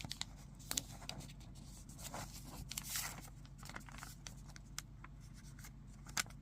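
Paper for an origami evergreen tree is folded in half, giving soft, close crinkling and scraping rustles over a quiet, faint background, with a few sharper creasing crackles along the way.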